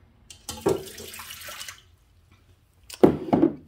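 Warm water poured into a bread maker pan in two short bursts, each a close, gurgling splash that fades out, with a quiet gap between them.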